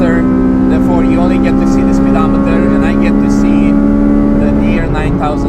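A Honda Civic FD2 Type R with a K20 engine, driven on the Nürburgring, holds a loud, steady high-revving drone from inside the cabin for the whole stretch, with a slight dip near the end and faint voice alongside.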